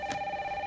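A telephone rings inside Resident Evil Requiem, a single electronic trill with a steady pulsing warble, clear and fairly close, heard alone without talk.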